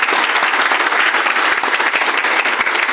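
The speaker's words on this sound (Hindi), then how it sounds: "तालियां।" Steady, dense applause from an audience at a health awareness program, a crowd clapping continuously at an even level for the whole stretch, with no voices on top.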